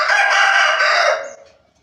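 A pet rooster lets out one loud, close cock-a-doodle-doo crow, holding steady before tapering off into silence.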